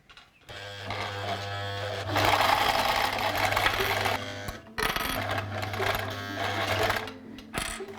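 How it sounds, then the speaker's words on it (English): A sewing machine stitches the sides of a cushion cover made from a shirt, running in two steady, close bursts of whirring with a short pause between them. "I just need to sew the sides together now."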